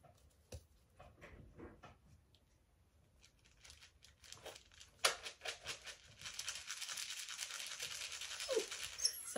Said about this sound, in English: I'm adding an extra distraction there by just rattling the kibble.